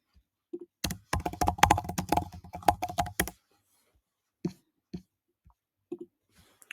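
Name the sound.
typing on a computer keyboard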